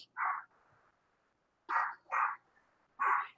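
A dog barks four times at someone arriving home, sharp close barks in two bursts separated by a short pause, in an otherwise quiet room.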